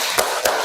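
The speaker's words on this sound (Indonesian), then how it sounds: "Sebelumnya kita akan bertepuk dulu ya. Tepuk pulang." Two crisp hand claps about a quarter second apart ring out during a classroom clap chant, close and fairly loud, with no voices.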